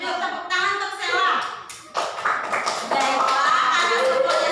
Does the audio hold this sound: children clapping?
yes